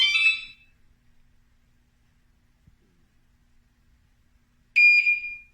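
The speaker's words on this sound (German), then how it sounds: "So let's say I turn on the alarm." Fosmon bicycle alarm switched on, two short, shrill electronic beeps several seconds apart, loud and close, with near silence between them.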